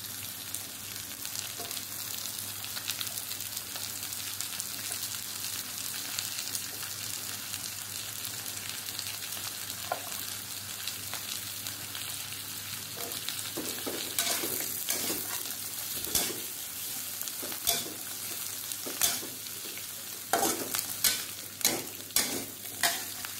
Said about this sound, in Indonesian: jangan sampai telat ngaduk ya, terus diaduk sambil terus diperhatikan tingkat kematangannya